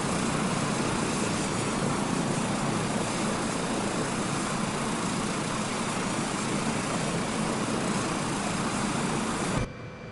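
Helicopter taxiing in Microsoft Flight Simulator 2024 on PS5, a loud, steady rotor and turbine drone that runs evenly throughout and drops off abruptly just before the end.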